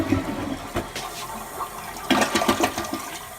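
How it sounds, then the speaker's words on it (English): A dual-flush toilet gives a light flush after a button press, a rushing gurgle of water that swells sharply partway through and then drains, loud and close with no talking over it. "That must have been the pee flush."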